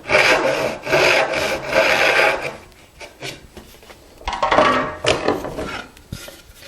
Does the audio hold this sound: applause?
no